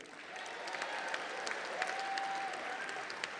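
Audience at the Greater Buffalo Sports Hall of Fame induction ceremony applauding the class of 2022, a sustained steady round of clapping in a large room, fairly soft and without speech.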